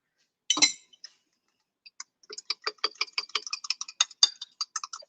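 A utensil stirring flour into thickening gravy in a pan gives a quick run of small clinks and taps after one brief louder scrape, close and fairly quiet.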